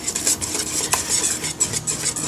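Eggs are whisked quickly in a pot, producing rapid, close metallic clinks and scraping strokes in a busy, even rhythm.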